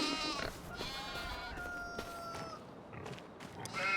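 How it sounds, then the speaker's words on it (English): Sheep bleat repeatedly in the livestock yard of the video game Farming Simulator 25, with several wavering calls close by and fairly loud over a steady ambient background. "This looks to be the animal depot, livestock yard, whatever you want to call it."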